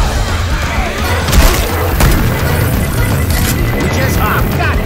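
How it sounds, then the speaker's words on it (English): A pipe bomb going off in Left 4 Dead 2, a few heavy booms and crashes over a constant loud game din, with a voice speaking over the noise. "Throwing a pipe bomb."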